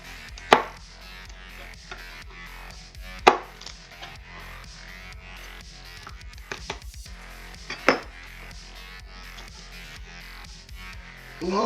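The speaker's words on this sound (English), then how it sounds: "This is a definite good excuse to get the mezzaluna out." A mezzaluna rocks through a lot of garlic on a board, giving several sharp, separated chopping knocks with lighter tapping between them, close and clear with no talk.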